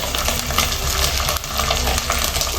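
Chicken stir-frying in sauce in a pan for dragon chicken, a steady close sizzle with scraping stirs and a brief dip partway.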